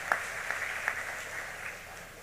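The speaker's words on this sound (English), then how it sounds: "that deserves a round of applause" Audience at a high school graduation ceremony applauding indoors, a brief spread of clapping heard somewhat distant and modest in level, with a few sharper claps near the start.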